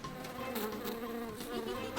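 A cartoon bee buzzing near a beach, a continuous droning hum with rising and falling pulses, fairly close and steady with no talking over it.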